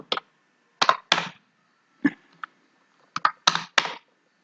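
Keys clatter on a computer keyboard as a word is typed into an Excel spreadsheet, in short clusters of crisp close clicks separated by quiet gaps.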